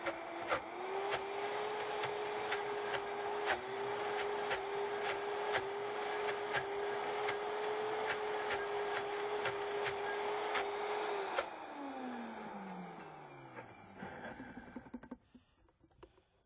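A food processor blends carob mousse in a steady, loud motor whir for about eleven seconds, then winds down and stops, leaving near silence.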